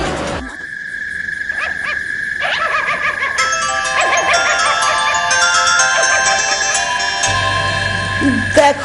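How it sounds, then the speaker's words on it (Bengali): A mobile phone ringtone plays at night in a Bengali action film scene, a loud repeating electronic melody of bright tones sounding alone and continuously. "দেখো না, এত রাত্রে কে ফোন করলো?"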